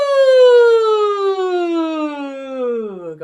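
A singer's voice imitates a siren during a vocal warm-up: one long, loud 'ooh' that glides smoothly downward from high to low over about three seconds, with no other sounds.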